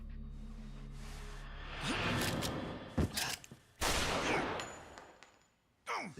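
Gunfire rings out during a fight in Yakuza Kiwami 2, a few sharp shots and bursts scattered over several seconds, mixed in with whooshes and game noise.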